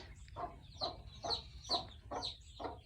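A hen with her baby chicks in a barn, clucking in a steady rhythm of six soft clucks, close and fairly quiet over low background noise, with faint high cheeps mixed in.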